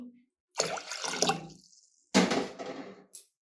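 Water from a small bowl is poured into a cooking pot for pongal in two close bursts of splashing, the second shorter, against a quiet kitchen.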